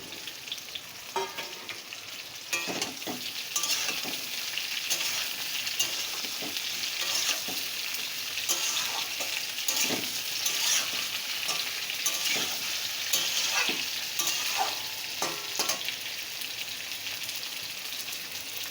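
Pointed gourd, pumpkin, red potatoes, potatoes and ridge gourd fry in a pan without salt, a steady sizzle broken by repeated scraping, clattering stirs, close and continuous.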